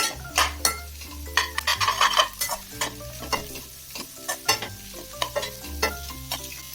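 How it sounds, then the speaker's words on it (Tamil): Onions sautéing in a pan over high flame for chicken fried rice, a steady sizzle broken by repeated sharp scrapes and clinks of a spatula stirring against the metal. "இந்த வெங்காயத்தை ஒரு 2 நிமிஷத்துக்கு வதக்கிக்கலாம். ஃப்ளேமை கொஞ்சம் ஹை பண்ணிக்கிட்டேன்."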